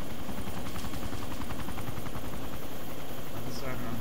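Helicopter in the video game ARMA II during a combat search-and-rescue mission, a loud continuous rotor drone with rhythmic chopping filling the whole stretch, steady and close with no break.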